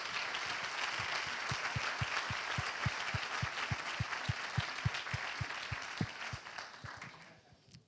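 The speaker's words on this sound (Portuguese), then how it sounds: "uma salva de palmas para os voluntários que estão aqui hoje presentes," An audience applauds volunteers at a training presentation event, with broad crowd clapping and a strong, steady rhythmic clap running throughout, fairly distant and even in level before fading out near the end.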